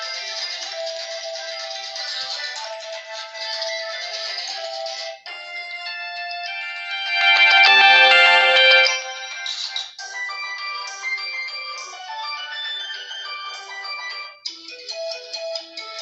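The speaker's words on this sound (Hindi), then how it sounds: "यहाँ से रिंगटोन्स में आ जाते हैं और देख लेते हैं क्वालिटी कैसी है" A run of Tecno Camon 16 SE phone ringtones, melodic chimes and jingles playing one after another, loud and clear with brief pauses between tunes.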